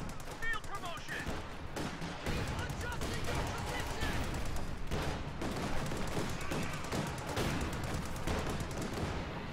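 A Stuart light tank fires rounds in a Company of Heroes 2 match amid dense, continuous battlefield gunfire and explosions, while a commentator talks over the action.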